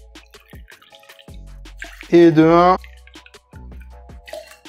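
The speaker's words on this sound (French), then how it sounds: "Pareil pour l'Oasis, on va se verser des petites rasades dans le bouchon." Oasis fruit drink is poured into a small bottle cap, making a brief rising gurgle of liquid filling the cap. Short clicks and handling noises surround it, and someone speaks briefly.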